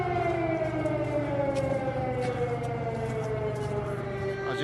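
A loud air raid siren in Kyiv wails continuously, its tone slowly sliding downward.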